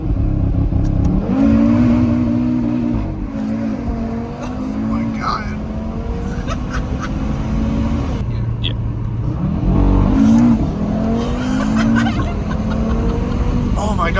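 A 2020 Audi RS3 accelerates hard, its engine rising in pitch and then dropping sharply at each quick gear shift with a crackling, fuel-cut-like stutter, loud and close throughout.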